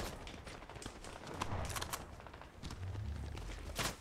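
Gunfire in the video game Fortnite, with rapid bursts of shots crackling repeatedly throughout against a steady background of game noise.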